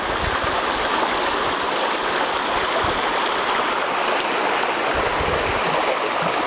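A brook flows steadily near a small footbridge on a property in Alma, a constant close rush of water with no voices.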